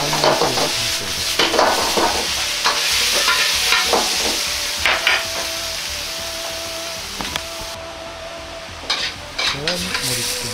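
Tuna and daikon radish are stir-fried with a little sesame oil, a steady sizzle under repeated scraping, clinking stirs of a utensil against the pan, loud and close.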